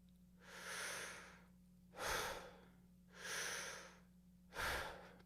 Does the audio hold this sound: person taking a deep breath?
yes